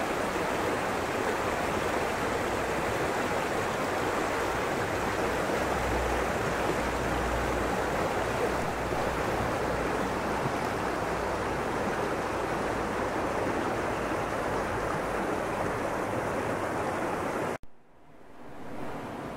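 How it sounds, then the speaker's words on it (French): A steady, full rush of a fast-flowing stream runs without pause, close and loud, then drops away abruptly near the end. "Il y a un bon débit, alors ça, c'est un ruisseau qui va rejoindre l'Asmois."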